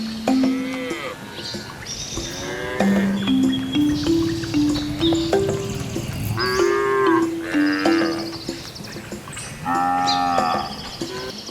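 Cattle mooing repeatedly, long low bellowing calls rising and falling in pitch one after another across the whole stretch, fairly close and loud over a faint outdoor background, with no talking.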